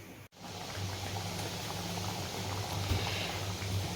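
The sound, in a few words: kachori frying in oil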